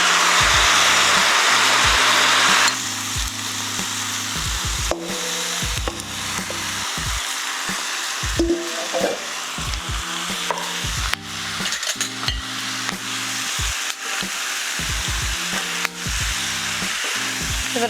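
Butter sizzles and spits in a hot frying pan while shaking beef is stirred through it, a steady loud fry with repeated scraping and clattering of a utensil against the pan, and no voices.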